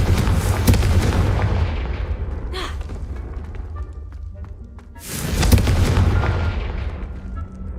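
Confringo spell blasts in Hogwarts Legacy, a fantasy action game, two heavy booming explosions a few seconds apart, each rumbling loudly and then fading out.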